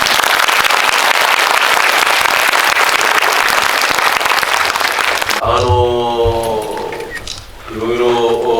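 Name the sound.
audience applause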